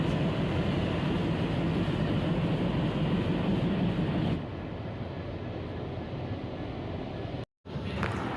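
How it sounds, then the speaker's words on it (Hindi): A train hauled by two WDM 3D diesel locomotives pulls out of Bikaner Junction, heard as a steady loud rumble and rolling clatter that drops to a quieter hum midway, broken by a brief cut near the end. "हमारी ट्रेन बीकानेर जंक्शन के प्लेटफॉर्म नंबर 2 से 13:53 पर निकल चुकी है"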